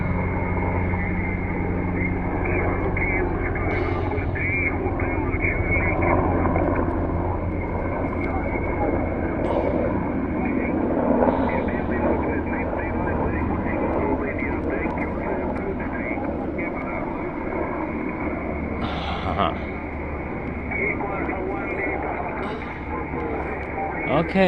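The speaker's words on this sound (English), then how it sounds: "helicopter." A continuous engine drone from an aircraft, likely a helicopter passing at a distance, holds steady throughout without speech.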